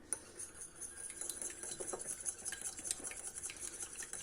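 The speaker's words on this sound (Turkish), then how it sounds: "ilk önce zeytinyağı ve yumurtayı birbirine iyice karıştırıyorum." Olive oil and eggs beaten together with a small whisk, producing a steady run of light, quick metallic clicks against the bowl, close and fairly quiet, with no talking.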